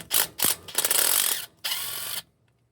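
Ratchet clicks in several rapid bursts while loosening the bolts on a Ford F250 rear differential cover, loud and close, with short pauses between runs and no talking.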